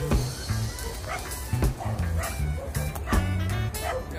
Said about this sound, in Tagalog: Aso rito.